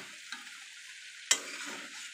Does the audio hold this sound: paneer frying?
yes